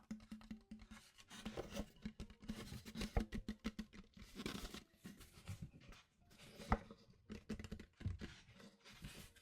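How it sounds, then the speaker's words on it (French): Wooden chess pieces moved aside across a board, a close, quiet run of clicking, tapping and scraping knocks in irregular clusters, with one sharper clack near the end. "Je vais mettre les pièces sur le côté pour vous montrer le jeu"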